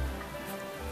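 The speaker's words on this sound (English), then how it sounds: "it's closed because it's raining heavily" Heavy rain falls in Mokpo, South Korea, as a soft, steady hiss that stays even and fairly distant through the brief moment, with no talking.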